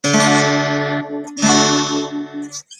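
A distorted electric guitar chord rings out, briefly cut, then strummed again and sustained before fading, loud and close with no talking.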